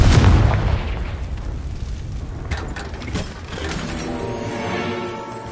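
A Confringo fire spell going off in the Hogwarts Legacy game, a loud booming blast at the start that rumbles and fades into lingering crackle and mechanical rattling.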